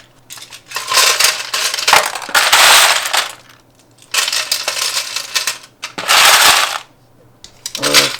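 Loud clattering of many small Lego bricks poured into a hard film drum in several long bursts, rattling and cascading close up with short pauses between pours.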